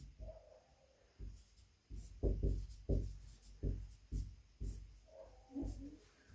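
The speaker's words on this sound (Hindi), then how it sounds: "नंबर 5 पे लिखेंगे आनंदवर्धन" Pen or pencil scratching across paper as notes are written by hand, with steady strokes and short pauses between them, close and fairly quiet and with no talking over it.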